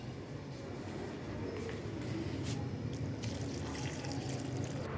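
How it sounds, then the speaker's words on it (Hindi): Water poured from a container onto potted plants in sunlight, a steady continuous splashing trickle that stays fairly loud and even throughout, with no voices. "यहाँ पे मैं सभी पौधों में पानी डाल रही हूँ"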